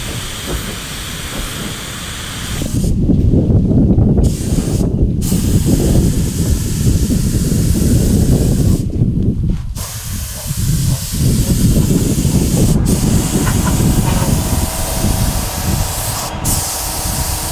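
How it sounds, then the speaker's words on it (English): Spray gun hisses loudly while paint is applied to a Toyota FJ45 Landcruiser chassis in a workshop, long continuous bursts of spray separated by a few brief pauses, close and steady with no talking. "But I am spraying the chassis and I'm not that fussed if I get a little bit of blob here or there."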